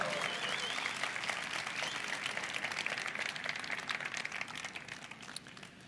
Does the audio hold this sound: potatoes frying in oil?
no